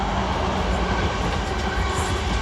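A South Western Railway class 444 train passing close at Vauxhall, a loud continuous rush of wheels and rail noise throughout the short stretch.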